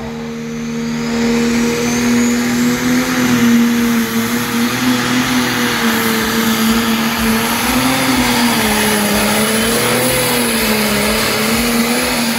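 A tractor-pulling diesel engine of around 3000 horsepower at an evening event revs hard and steadily throughout, a loud sustained drone with a wavering pitch as the machine pulls.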